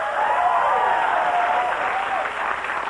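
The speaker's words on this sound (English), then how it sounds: "Oh, you don't have to clap." Studio audience applause at a late-night comedy show, a steady wash of clapping that swells and then slowly fades over a few seconds, with no talk over it.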